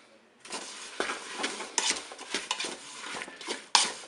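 Fruit and sugar are stirred in the pot of a Cookeo multicooker: a spoon scrapes and clinks against the bowl in irregular, close strokes, with no speech.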